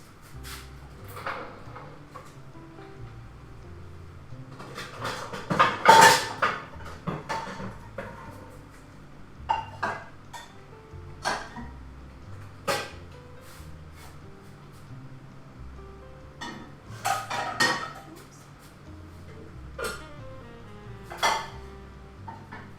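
Pots and pans clank and bump intermittently in a kitchen, with scattered metallic knocks and a drawer or cupboard sliding, close and moderately loud.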